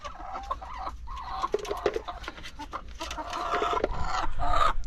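Hens cluck steadily in the area of a coop where they have laid their eggs, with irregular overlapping calls near and far and a rooster-like note now and then, growing a little louder toward the end.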